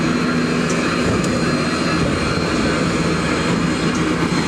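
Railroad locomotive engine running at the Tennessee Valley Railroad Museum, a loud, steady broadband roar with a low droning hum, close and continuous with no talking.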